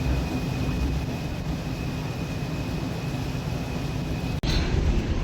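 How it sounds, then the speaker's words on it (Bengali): Propeller thrust of the Parabat 12 passenger launch running at full speed, a loud, steady, broadband roar with a constant engine drone and no talk. "তো এই হচ্ছে লঞ্চের প্রোপেলার থ্রাস্ট"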